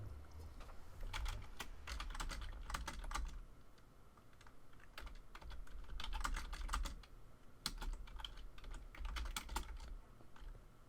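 Steady bursts of computer keyboard typing, close and fairly quiet, in quick clattering runs with short pauses between them and no talking.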